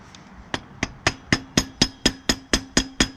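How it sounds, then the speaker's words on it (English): Eleven sharp metallic taps in a steady, slightly quickening rhythm, each ringing briefly, as a hammer strikes a screwdriver close by while changing a 90cc pit bike's rear tyre. "I've got a hammer"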